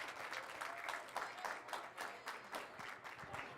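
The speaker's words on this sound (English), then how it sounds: "big applause for Bree" Applause at a high school signing ceremony for a student athlete committing to Hill College, a steady crowd clapping that carries evenly through the moment without pause.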